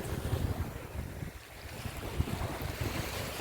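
Sea waves and wind on a beach in Kuwait, a steady rushing wash of surf with gusty wind buffeting close, no voices.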